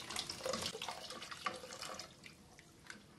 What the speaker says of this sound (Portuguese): Eu venho com a água que eu esquentei aqui, ó, na minha chaleira e já coloco a água quente.